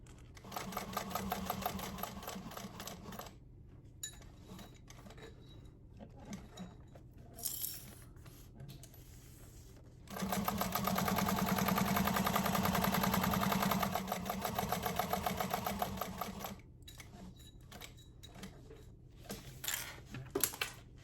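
A sewing machine topstitches the layers of a quilted appliqué bag in two bursts of steady running stitching, with quiet handling and pauses between the bursts.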